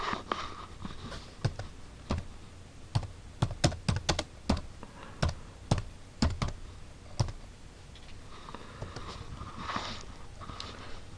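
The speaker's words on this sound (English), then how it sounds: "So all I need to do is go down there and type in what I want to type." Irregular bursts of keystrokes on a computer keyboard, typing a chat message, with clustered clicks and short pauses, fairly quiet and close with no voices.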